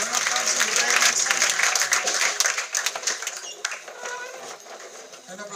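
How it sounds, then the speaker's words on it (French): Sustained, dense applause and cheering from a church congregation fill the space, loud and continuous throughout with no pause. "Est-ce qu'on peut l'acclamer?"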